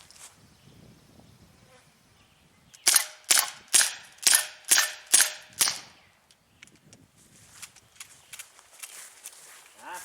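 An ASG Dan Wesson 4-inch CO2 BB pistol fires six sharp, evenly spaced pops in quick succession, close and loud against a quiet outdoor background with faint rustling before and after.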